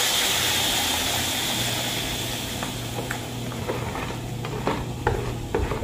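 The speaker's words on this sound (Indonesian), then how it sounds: "Nah ini kita masukkan ke wajan yang tadi ya." Ground tomato and shrimp-paste sambal stirs in a hot wok with a steady hissing sizzle, the spatula scraping and tapping against the pan in irregular strokes, close and without talk.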